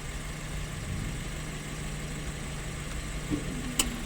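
A Toyota Yaris ATIV engine idles steadily nearby, a low even hum with a faint mechanical tick. A short click and a sharp tap come near the end, and there is no talk.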